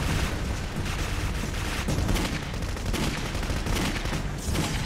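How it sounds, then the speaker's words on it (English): Rapid gunfire in the video game Clive Barker's Jericho, dense bursts of shots and booms crackling steadily throughout, loud and sustained with repeated sharp volleys. "She is firing at something."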